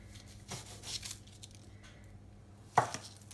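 A knife cuts through rolled puff pastry on a board, with a few soft slicing strokes and one sharper tap as the blade meets the surface, near and fairly quiet.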